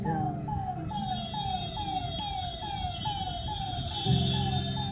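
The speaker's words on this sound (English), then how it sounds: "Ah, that's a fire engine." A fire engine siren wails in repeated rising-and-falling sweeps, fairly close and loud, over steady rain in a park, with a dog-like howl joining in near the end.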